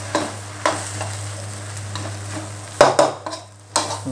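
Store-bought bagged rice is stir-fried in a pan for fried rice with fermented pork, a steady sizzle broken by scraping and spatula strokes at irregular intervals, with a louder clatter near the middle.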